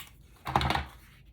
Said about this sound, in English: So now I'm going to mount this with my repositionable tape runner.